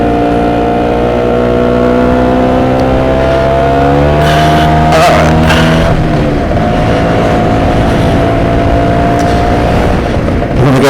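Stella LML scooter engine while riding in Southington, Connecticut, a steady near drone with rising and falling pitch as the throttle changes, loud throughout with wind and road rumble, no talk.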